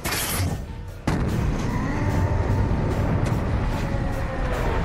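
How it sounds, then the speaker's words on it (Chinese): A massive explosion tears through a base in a sci-fi horror film scene: a sharp burst, then a loud, sustained roar of rumbling debris and fire that fills the whole stretch without letting up. "基地瞬间发生剧烈的爆炸"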